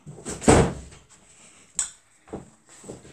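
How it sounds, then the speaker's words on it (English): A bedroom door closes with a firm thud followed by a couple of lighter knocks and rattles, close by in a quiet room. "So let me just close my door."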